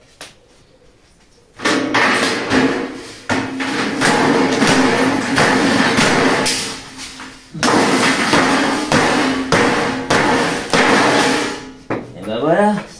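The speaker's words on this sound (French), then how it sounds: "Alors ça c'est du marteau." Heavy hammer blows on a homemade rocket-style build, struck in long, dense runs of loud, rapid metallic banging that stop briefly before another sustained burst.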